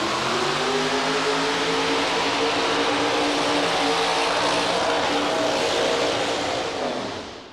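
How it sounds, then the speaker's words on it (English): Tractor pull engine at the National Farm Machinery Show Championship, a loud sustained roar that fades at the end as the engine quits pulling, with an announcer talking over it. "engine popping and missing, and all of a sudden it just flat quit pulling on him right there"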